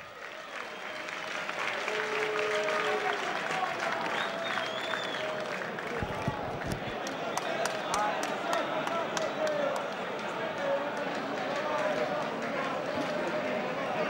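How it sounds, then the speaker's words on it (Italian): A football crowd in a stadium applauds an injured player being carried off, a steady spread of distant clapping under a commentator's voice. "viene applaudito dal pubblico"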